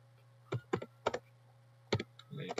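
Computer keyboard keys tapped while entering HTML code, a few sparse clusters of crisp close clicks separated by short pauses, over a faint steady hum.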